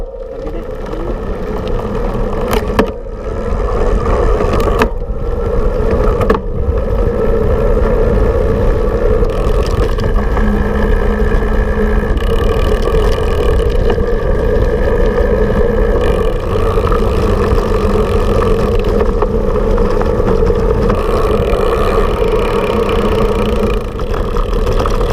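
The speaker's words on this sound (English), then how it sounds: "I'm going to go over the cobblestones again." A Bulls Cross E8 electric bike rolls over cobblestones with a steady, continuous rumble and rattle that stays fairly loud and even throughout, a couple of sharper knocks near the start.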